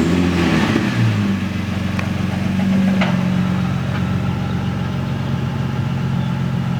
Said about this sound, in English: So I'm gonna give it a little rev. Your exhaust just popped.